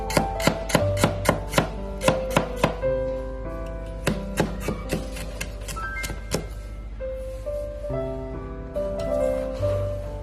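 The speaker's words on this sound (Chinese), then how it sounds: "把生姜切成薄片" A knife chops peeled ginger into thin slices on a cutting board, with a rapid run of crisp, close knocks, a pause, then more irregular taps, set against light background music.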